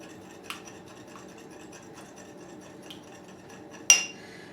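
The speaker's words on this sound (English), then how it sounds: "And beat this egg well." A fork beats an egg in a bowl, producing a faint, steady whisking scrape with occasional light taps against the bowl and one sharper clink near the end.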